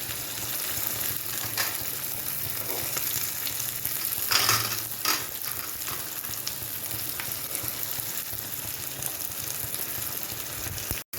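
Curry leaves and coconut pieces fry in a pan for a horse gram and tapioca dish, with a constant close sizzle and spatter, repeated stirring scrapes, and a brief louder burst near the middle.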